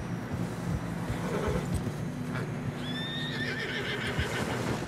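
In Red Dead Redemption 2, a horse struggling through fresh snow whinnies with a rising, shrill call over steady hoofbeats and low rumbling background noise, fairly faint and continuous.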